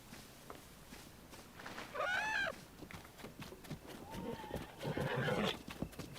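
A painted horse in Zelda: Tears of the Kingdom gives a loud, rising whinny, followed by snorting and a second longer neigh amid hoof clatter, with faint voices in the background.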